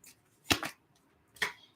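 A deck of tarot cards being shuffled during a reading, two or three short crisp riffling bursts close by, separated by near silence.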